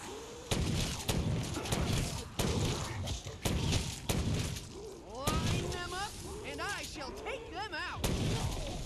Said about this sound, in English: this is why I like shotguns in zombies